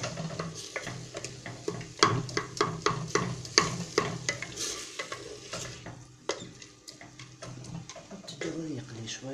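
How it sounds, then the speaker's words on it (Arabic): Food frying in a pot for chorba frik, stirred with repeated scraping strokes over a steady sizzle, close and moderately loud, with faint voice in the background. "تقليب"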